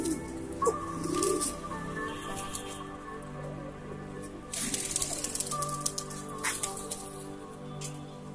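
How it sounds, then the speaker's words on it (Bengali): Domestic pigeons cooing in a loft, several birds giving soft repeated coos throughout, with occasional wing flutters and light scuffing nearby; no one speaks. "ওরা কত কবুতর যে বাইরে থেকে আসছে"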